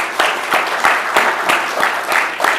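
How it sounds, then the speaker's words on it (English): Steady, lively applause from an audience at a talk event, rapid clapping with rhythmic swells, fairly close and loud throughout. "A round of applause for Umami thank Ramen."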